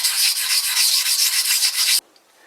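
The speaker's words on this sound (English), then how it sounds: "This here is a 400 grit diamond hone." A 400 grit diamond hone rubs back and forth on a lathe slide, making a bright, close, rhythmic scraping that stops abruptly near the end.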